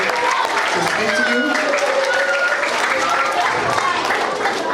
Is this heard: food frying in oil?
no